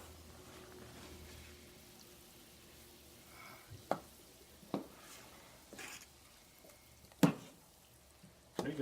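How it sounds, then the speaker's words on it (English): A pot of chili with beer is stirred at a low simmer, with soft wet swishing and a few sharp scrapes and knocks against the pot standing out from a quiet bubbling background. "You can stir if you want to."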